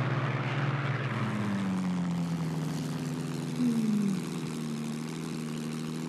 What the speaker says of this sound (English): We're going to try to do a flyby or something here without crashing the airplane.